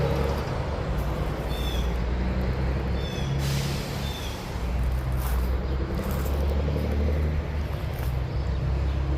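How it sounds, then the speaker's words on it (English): Big trucks pull away with a deep, steady rumble from their exhaust stacks and a hiss of air brakes. The roar fills the whole stretch loud and continuous, with no voices. "You can hear the trucks taking off, man. The rumbling from their smokestacks."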